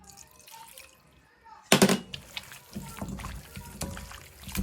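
Cold water poured in a small splash into a seasoned chicken coating batter for fried Zinger-style chicken, followed by wet mixing and dripping sounds, close and fairly loud.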